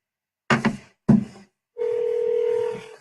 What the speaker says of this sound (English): You guys hear the phone ringing?